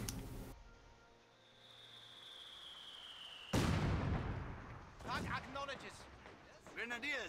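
A building blown up by American forces in the Company of Heroes 2 video game, a sudden loud burst that rolls into a sustained rumble with debris, following a quieter stretch and overlapping a voice talking.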